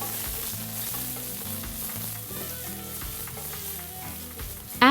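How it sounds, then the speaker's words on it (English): Asafoetida, cumin seeds and ginger-chilli paste fry in hot oil for bathua paratha filling, a continuous close sizzle with stirring, under steady background music and no speech. "Saute this well."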